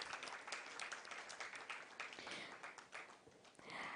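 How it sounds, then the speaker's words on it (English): An audience at a women-in-sales event breaks into steady applause to welcome a speaker onto the stage, a dense wash of many hands clapping, moderately distant and even in level, swelling slightly near the end. "With a big round of applause, let's welcome Mr. Amit Agarwal, Chief Business Officer, WebWorks Data Center."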